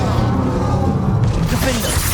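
Bombarda blasting spell exploding in the Hogwarts Legacy video game: a dense, roaring burst of noise that fills the whole clip, with a fresh crackling surge about halfway through.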